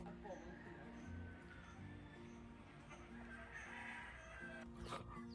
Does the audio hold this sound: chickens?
yes